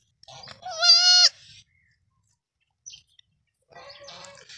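A long-eared goat, a big nanny kept with her kid, gives one loud, wavering bleat near the mic, followed later by a shorter, fainter second call, with quiet gaps between.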